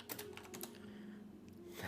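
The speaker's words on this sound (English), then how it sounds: "I got a little kitten walking across the keyboard just about." A small kitten walks across a computer keyboard, pressing keys in a few quick, soft, irregular clicks, faint and close, with no talking.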